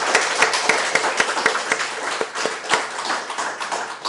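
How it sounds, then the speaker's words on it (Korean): A church congregation breaks into applause during a Sunday service, many hands clapping in a dense, steady wash with sharper individual claps popping through, sustained and fairly close throughout. "우리 예수님께 영광 돌리는 박수 한번 올려드리겠습니다."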